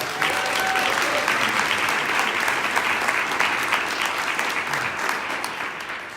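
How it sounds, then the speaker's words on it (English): Audience applause at a monthly political meeting, a steady, dense clapping from a roomful of people that holds strong for about six seconds before tapering slightly. "Can we give her a big round of applause?"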